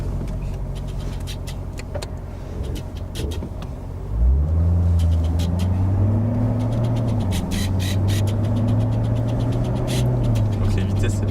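A Corvette Stingray C7 limited Jetblack edition rumbles from low idle into a deep engine note as it pulls away, revving up through smooth gear changes, loud and close.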